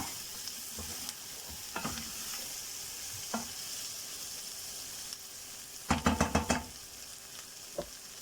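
Chicken pieces sizzle steadily in a hot pan while a utensil stirs and scrapes them, with a quick cluster of sharp scraping knocks near the end and no talking.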